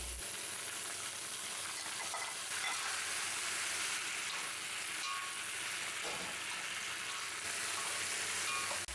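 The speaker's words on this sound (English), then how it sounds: "we start by frying up some chopped onions and some bacon or sausage" Chopped onions, bacon and leftovers sizzle and crackle steadily in a cast iron pan, a dense close hiss with occasional stirring scrapes and no voices.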